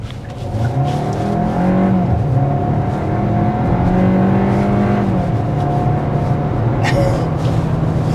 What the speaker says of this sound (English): There's a 60-mile-an-hour acceleration.